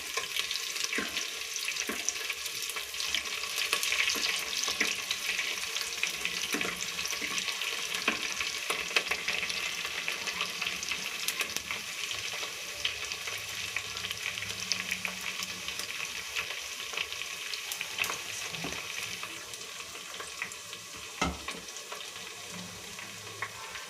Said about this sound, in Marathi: आपलं तेल गरम झालेलं आहे. त्याच्यामध्ये टाकूया कांदा